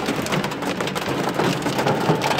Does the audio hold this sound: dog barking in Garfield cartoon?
no